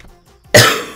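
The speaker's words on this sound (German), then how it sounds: "Entschuldigung, wegen dem Husten, das tut mir wirklich leid" One sharp, loud cough bursts out close to the microphone after a quiet moment, followed by the start of another.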